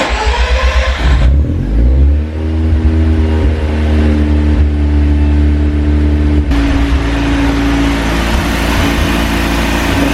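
A Mazda RX-7 rotary engine idles roughly, then revs up in neutral and holds a high, buzzing drone close by, with a sharp shift in pitch partway through.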